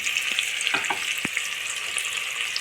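Kushka ingredients sautéing in a pan, a continuous moderate sizzle with a few soft scraping stirs and taps.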